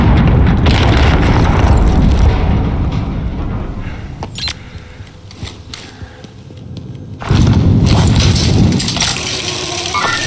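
A thrown grenade in Call of Duty Warzone blasts with a loud, deep boom and rumbling wash, then fades before a second heavy burst erupts, set against constant game ambience.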